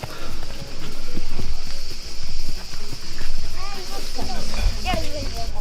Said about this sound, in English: Somebody delivering food on a horse, especially seafood, fish.